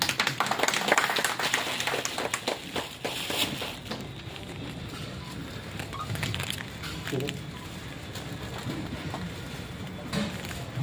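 An audience applauds at a jatra folk-theatre performance, with broad, steady clapping that is loudest early on and continues as a noisy wash throughout.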